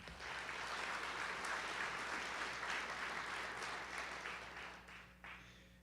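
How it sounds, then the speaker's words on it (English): An audience at a sponsor recognition event applauds steadily for several seconds, with the clapping fading toward the end. "Let's give a round of applause to them."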